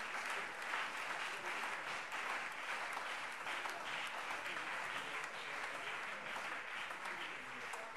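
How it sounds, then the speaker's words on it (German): Long, unbroken applause fills a plenary session of the Hessen state parliament in Germany, a dense wash of clapping from a large crowd that holds at an even level for the whole stretch. "Es geht auch nicht, dass ein Redner hier mit langanhaltendem Beifall mundtot gemacht wird."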